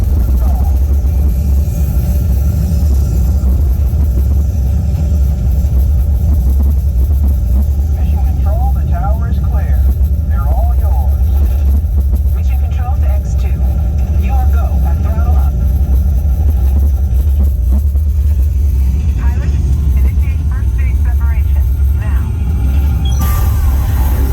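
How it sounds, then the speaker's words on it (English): A simulated rocket main engine start on a theme-park astronaut training ride sets off a loud, steady, deep rumble that fills the cabin, with voices talking over it throughout. "We have main engine start."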